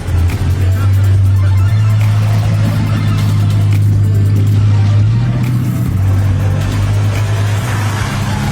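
A Bugatti Chiron supercar pulls away from the casino square in Monaco, its deep engine droning loudly and steadily as it accelerates, with crowd chatter around it.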